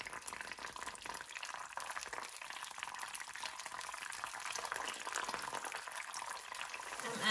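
Chicken pieces fry in a pan with oyster sauce, giving a soft, continuous sizzle and bubbling that stays quiet and even throughout.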